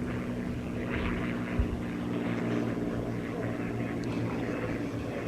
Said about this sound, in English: the Red Tail Mustang from the Tuskegee Airmen will be performing a beautiful aerobatic routine for you